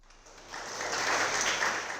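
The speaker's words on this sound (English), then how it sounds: "let's give another round of applause to our portfolio startups" An audience at a summit startup showcase breaks into applause, the clapping swelling in after a quiet start and holding steady as a broad, fairly distant patter.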